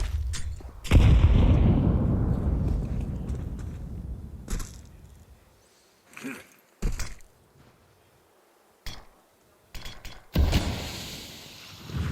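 Close-range pistol gunfire in a Counter-Strike match at IEM Kraków, heard as a loud sustained burst at the start, then scattered sharp single shots with quiet gaps between them and a final cluster near the end.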